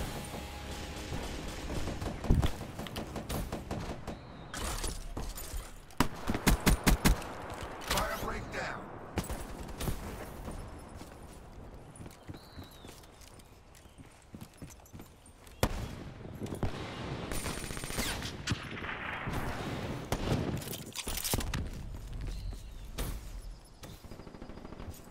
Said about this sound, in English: Not sure why none of my fucking shots are hitting with this gun